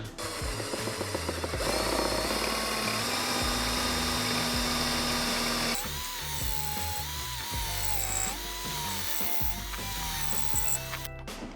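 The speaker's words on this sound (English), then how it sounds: "The drill bit just wouldn't drill" Cheap budget drill from Temu straining against wood, a loud continuous whining motor with rattling, grinding mechanical chatter and shifts in pitch as the bit fails to bite, running close and steady for nearly twelve seconds with no voices.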